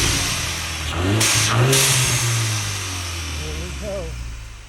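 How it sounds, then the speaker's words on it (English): A 2022 Mustang EcoBoost fitted with a C&L blow-off valve adapter revs up and settles back, loud and close, with a brief hiss from the valve partway through and a short spoken remark at the end. "Give it a taste of gas."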